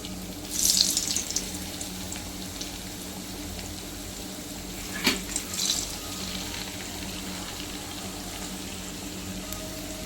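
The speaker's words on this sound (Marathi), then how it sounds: "मी अळूवडी घेतली आहे ती मी आता ह्याच्यात फ्राय करायला ठेवते" Colocasia leaf rolls (alu vadi) with prawns frying in oil in a pan, a steady hiss with a brief louder sizzle early on and a few soft clatters midway.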